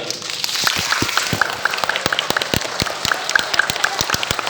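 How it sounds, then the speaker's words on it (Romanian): Audience of children and parents applauding at a magic show, a dense clatter of many hands clapping fast and loud, with a few faint high beeps mixed in. "Cine aplaudă mai tare câștigă?"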